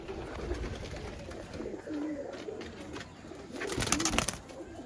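Domestic show pigeons coo softly in repeated throaty bursts, close by, with rustling and a faint background hiss and no talk.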